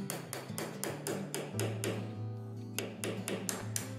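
Rapid, evenly spaced hammer strikes drive a nail into a wall to fix trim at home. The blows are close and sharp, with a low ringing hum beneath them.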